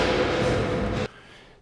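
A drum hit processed through the Airwindows kCathedral reverb plugin gives a dense metallic wash that holds loud for about a second, then cuts off sharply to a faint fading tail.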